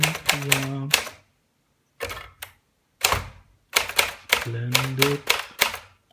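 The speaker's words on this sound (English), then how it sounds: "This is an Olympia Splendid66 typewriter." Keys striking on an Olympia Splendid 66 typewriter in sharp, close clusters of rapid clacks separated by short pauses, with a voice speaking over some of the bursts.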